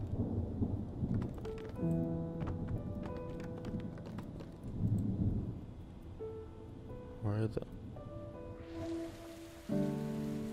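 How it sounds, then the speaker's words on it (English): Rain and thunder in the video game Hue, a soft steady patter with low rumbles beneath game music tones and a voice talking over it. "It's raining."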